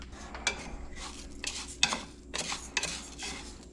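Rice is stirred in a hot pot to toast, giving soft scraping and light clinks of a utensil against the pan in uneven strokes, close and fairly quiet.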